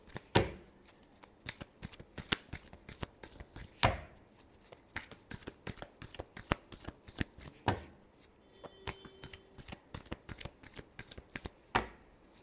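Tarot cards are shuffled in a steady run of crisp riffling and slapping bursts over about twelve seconds, close and fairly quiet, with a few louder snaps and no speech.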